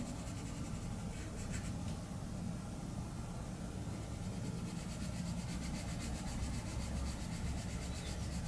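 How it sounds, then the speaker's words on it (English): Steady scratchy rubbing of a colored pencil on paper, continuous and close, with no talking. "I'm only using colored pencils right now"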